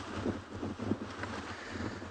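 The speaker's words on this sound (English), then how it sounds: "It's very, very windy." Strong wind roars and buffets the microphone in uneven gusts on a safari drive at Ngala Private Game Reserve, with no voices, just a continuous rushing blow.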